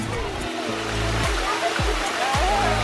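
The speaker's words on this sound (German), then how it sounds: "Ein riesen Wasserfall." A large waterfall at a children's water playground roars as a steady, broad rush, with a low humming drone and a few short drops in pitch beneath it.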